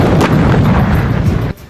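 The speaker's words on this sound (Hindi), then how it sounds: "युद्ध अभ्यास के दौरान बमों की ऐसी अंधाधुंध बरसात की गई कि धमाकों के शोर ने वीरान इलाके को दहिला दिया" Bombs detonate during a night military drill by Russian and Syrian forces in a deserted area: a loud, continuous rumbling roar of blasts that fills the sound and then cuts off abruptly.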